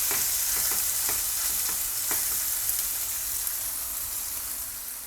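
A chicken steak frying in a lightly oiled pan, a dense steady sizzle with faint crackles and soft stirring ticks early on, gradually easing slightly toward the end.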